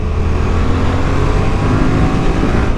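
Yamaha R7 motorcycle engine drones loud and steady at high revs, a dense continuous roar with no pauses.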